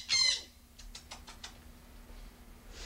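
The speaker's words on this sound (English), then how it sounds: "Oh, show the birds. What birds? Parrots." Pet parrots in a backyard give a loud squawk at the start, then a quick series of soft chirps and flutters, fairly close, against quiet outdoor background hum.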